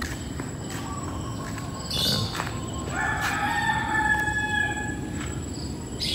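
Distant rooster crowing drifts over a calm morning hush in a garden subdivision lined with pine trees, a couple of faint drawn-out calls above low background noise.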